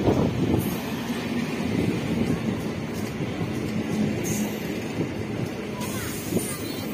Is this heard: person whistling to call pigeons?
no